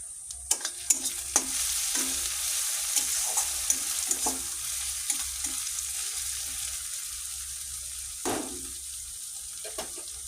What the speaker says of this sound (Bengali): এবারে দিয়ে দেবো আদা একটু ব্রাউন করে ভাজবো